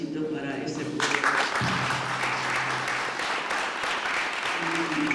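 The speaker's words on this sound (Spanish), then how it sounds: "Creo que le hacemos un aplausito para ese pueblo." Audience applause for the people of Cuba at a panel discussion on media in Latin America and the Caribbean. A voice is heard first, then clapping breaks out about a second in and continues evenly, with talk still mixed in underneath.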